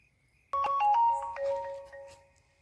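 A mobile phone ringtone plays at night, a bright melodic run of electronic notes that starts suddenly and rings for about two seconds, close and clear in an otherwise quiet room.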